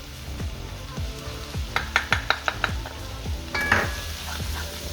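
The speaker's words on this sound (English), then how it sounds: "We give a good mix and remember, don't burn the paprika" Cabbage soup with sweet paprika being stirred in a pan, a spoon scraping and knocking against the pan in quick uneven strokes over a low, steady sizzle, with a couple of brighter metallic taps.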